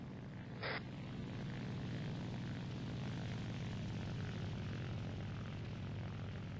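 Propeller airplane engine droning steadily overhead in a tank combat video game, a continuous low hum that fills the whole stretch, with a brief sharp click near the start and no talking.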